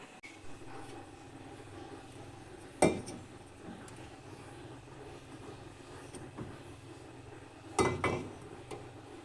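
Dishes and pans are set down in a home kitchen, with two distinct metallic clanks several seconds apart over a low steady background hum.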